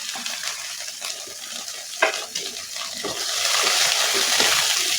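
Garlic, coconut and coriander roasting with a little turmeric in a pan, giving a steady soft sizzle with scraping stirring strokes throughout and a brief clink near the middle.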